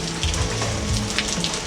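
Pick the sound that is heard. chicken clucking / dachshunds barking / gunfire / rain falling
rain falling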